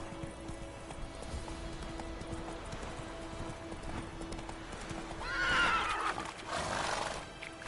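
Horse hooves clip-clopping at a gallop in the video game Witcher 3, with a loud whinny rising near the end over steady game ambience.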